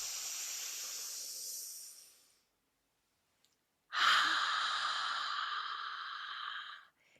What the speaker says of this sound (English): big deep breath in through your nose. And exhale.